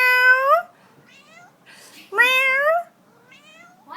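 A cat meows twice, two drawn-out, clear calls separated by a pause, close and loud, with faint fainter mews between them.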